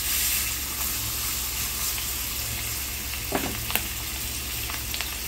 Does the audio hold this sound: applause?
no